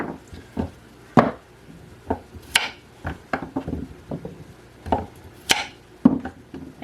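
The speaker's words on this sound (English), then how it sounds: "Because I chop them differently depending on the size." Knife chopping potatoes on a cutting board for a homemade potato soup, with sharp irregular thuds and taps in uneven bursts, close and fairly loud, no talking.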